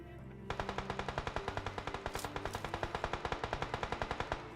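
Rapid automatic gunfire in the PUBG Mobile video game, a long steady burst of sharp, evenly spaced shots rattling on for several seconds, loud and close, with no speech over it.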